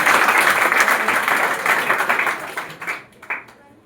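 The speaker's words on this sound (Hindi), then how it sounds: "जोरदार तालियां गुड़िया कुमारी के लिए" A crowd claps steadily and loudly at a student award ceremony at a coaching centre in Bihar, then the applause thins out into a few scattered final claps before fading.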